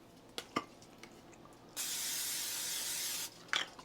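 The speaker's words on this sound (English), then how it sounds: "Let's spray this pan." Cooking spray hisses onto a frying pan in one steady burst of about a second and a half, preceded and followed by small clicks and knocks, near and fairly quiet.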